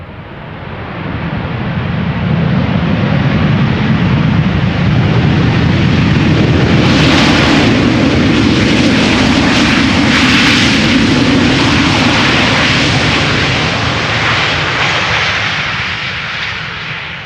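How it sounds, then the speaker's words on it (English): A Boeing 737-800 lands at Amsterdam Schiphol, its jet roar swelling to a loud, broad rush as the thrust reversers engage, then slowly fading. The sound is continuous and close, with no voices. "737-800 arriving from Dublin."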